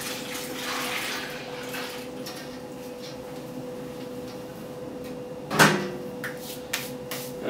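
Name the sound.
pouring water into beer brewing fermenter to aerate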